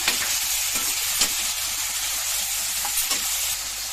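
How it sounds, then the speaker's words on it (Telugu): Mutton curry being stirred in a pan gives a steady close sizzle with soft scraping strokes throughout a few seconds. "బాగా అంతా కలబెట్టుకోవాలండి"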